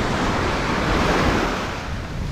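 An ocean wave breaks and washes up a New Jersey beach in rough surf, a steady loud roar of water with wind noise on the microphone.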